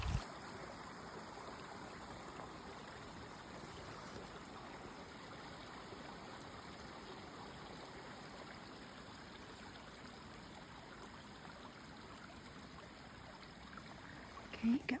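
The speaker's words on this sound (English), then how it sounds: "I'm gonna cross over this creek" Steady broadband rush of a creek flowing continuously at moderate level, a constant wash of water with no voices, heard on a hiking trip near a campsite.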